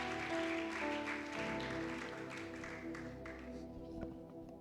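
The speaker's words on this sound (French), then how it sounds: "quelqu'un peut donner des acclamations au Seigneur?" A church congregation at a Thursday worship service claps for the Lord, steady dense applause that gradually thins and fades, with a sustained musical tone underneath.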